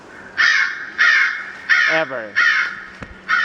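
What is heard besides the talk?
recording of crow caws used as hawk deterrent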